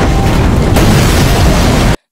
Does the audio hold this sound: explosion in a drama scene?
yes